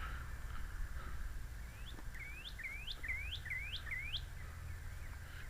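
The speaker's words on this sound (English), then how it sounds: "The birds in the mist." A bird repeats a quick series of rising, whistled chirps, about seven in a row, over a low steady outdoor hum.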